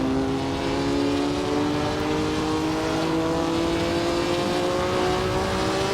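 Historic 1950 Formula One racing car engine in Assetto Corsa at Silverstone, a loud steady drone with rising harmonic whine as the engine climbs through revs, continuous and close, no other sounds.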